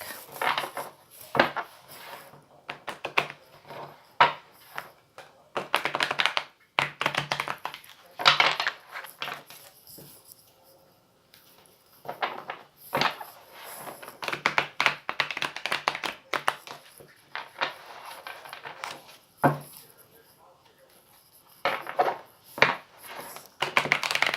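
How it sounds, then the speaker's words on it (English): Crisp, fluttering bursts of a deck of tarot cards being riffled and bridged, coming in quick repeated rounds with short pauses between shuffles. "I'm going to shuffle a couple more times real quick."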